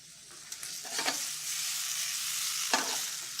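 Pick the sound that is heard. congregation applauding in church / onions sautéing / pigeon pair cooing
onions sautéing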